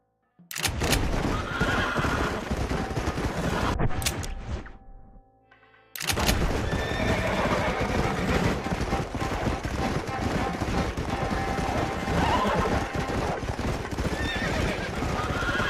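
Horses in the Red Dead Redemption video game on Xbox 360 trot with steady clip-clopping hooves and neigh loudly, the hoofbeats dense and continuous, briefly dropping out before resuming at full volume.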